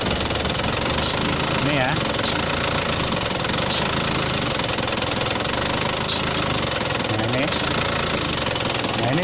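Diesel engine of an Isuzu Panther idling steadily after being revved, a continuous knocking rumble filling the background while someone speaks briefly over it.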